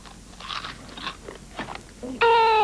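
Kix corn ball cereal crunched in small, crisp bites in a quiet, close, irregular rhythm, then a sudden loud tonal sound cuts in at the end.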